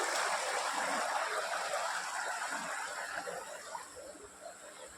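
Rainwater running down from a hill, a steady broadband rush of flowing water that stays fairly loud and constant, easing slightly toward the end.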